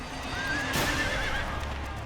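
A horse at a bronc riding rodeo whinnies and neighs loudly over steady crowd and arena noise, with a brief burst of hoof clatter in the middle as it loses its footing.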